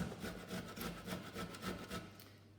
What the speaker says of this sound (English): we're going to grate down on the ginger